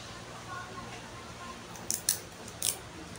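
Scissors make three quick, crisp snips close by in a school workroom. A quiet room background runs beneath them.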